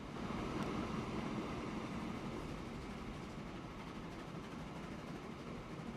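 A goods train rumbles past steadily in a continuous broad roar, loud and close, with no let-up across the whole stretch.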